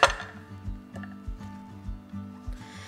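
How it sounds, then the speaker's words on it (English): A knife cuts a cauliflower in half on a cutting board in a home kitchen, making a series of soft, evenly spaced chopping knocks that sound close and fairly quiet, with no one talking. "I like to cut mine in half."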